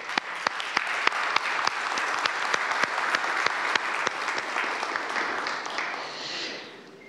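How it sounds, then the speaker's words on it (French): Sustained applause fills a municipal council chamber in Saguenay in honour of ombudsman Mr. Lessard, individual claps crisp and distinct at a moderate distance before the ovation tapers off at the end. "je pense que ça mérite une bonne main d'applaudissement"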